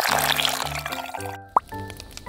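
Water splashes and drips into a miniature cooking setup as a fried chicken potato drumstick dish is prepared, with one sharp bright drip standing out over steady background music.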